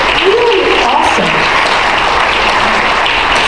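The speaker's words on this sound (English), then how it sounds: "Let's give a round of applause actually to Antioch and the organizers." Steady, dense applause from a conference audience thanking the organizers of a climate preparedness event, loud and continuous throughout, with faint voices mixed into the clapping.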